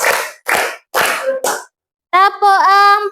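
A third-grade class in an Islamic religion lesson on fasting claps together in a counting clapping game: four sharp, loud group claps in quick succession, then children's voices chanting in unison.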